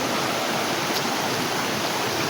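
Clear water of a mountain stream rushes over rocks, a loud, dense, continuous hiss and splash close by, steady from start to finish with no voices.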